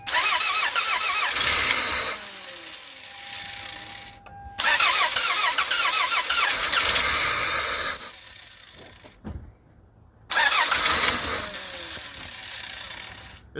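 A high-mileage Toyota Camry engine cranks and sputters into life in repeated attempts, several loud bursts of running separated by short silent gaps, with a rough uneven idle after a tune-up and fuel injector reconnection.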